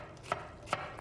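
A knife chops straight down through an onion on a cutting board, giving two crisp, close taps about half a second apart over a quiet kitchen background.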